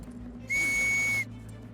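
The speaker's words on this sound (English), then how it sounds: "So he blew his whistle." A police constable's whistle blown once on a steady shrill note for under a second, loud and alone, set against a low background hum.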